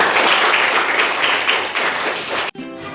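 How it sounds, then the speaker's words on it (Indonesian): A room full of people claps together, probably schoolchildren at a primary school gathering. The dense, steady applause holds for about two and a half seconds and then cuts off abruptly, leaving faint background noise. "Tepuk tangan bagi kita semuanya."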